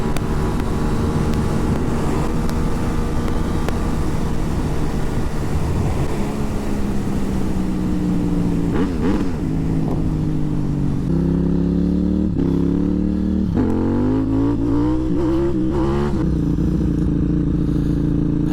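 A supermoto motorcycle rides over packed gravel. The engine drones loudly and continuously, rising and dropping in pitch through gear changes, with rough rattling and wind noise close by and no speech.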